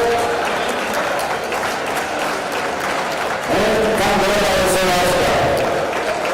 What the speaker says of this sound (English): Let's give them the applause for our referees for this tournament.